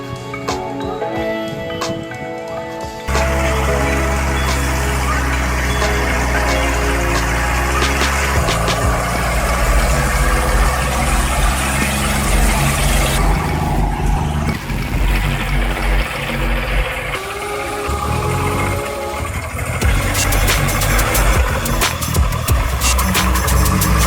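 An old Soviet military truck engine clatters at idle, the chugging shifting as it starts and revs into a loud, rough, sustained running drone.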